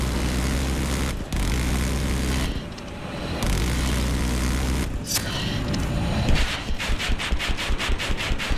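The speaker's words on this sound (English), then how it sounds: "I spotted a hostile jet in your AO." A hostile jet roars overhead in a combat video game, a loud sustained engine drone broken by brief cuts, with rapid rhythmic bursts near the end.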